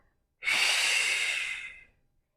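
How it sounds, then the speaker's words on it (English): A single long breath during a Pilates exercise, heard close and clear as an airy exhale that rises sharply, holds for about a second and fades. "Inhale through the nose. Breathing out."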